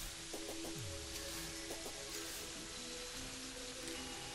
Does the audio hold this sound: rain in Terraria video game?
yes